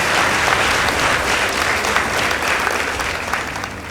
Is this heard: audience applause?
yes